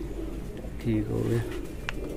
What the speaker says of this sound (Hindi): ये बैठा है कबूतर